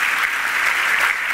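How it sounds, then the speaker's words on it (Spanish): Loud, dense audience applause fills a brief moment as a steady, unbroken wash of many hands clapping, with no talk over it. "Yo les pido un aplauso."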